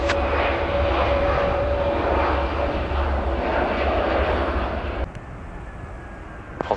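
Airliner close overhead at Paris Charles de Gaulle airport during rush hour, a loud, steady engine roar that holds for about five seconds, then cuts off abruptly to a quieter background hum.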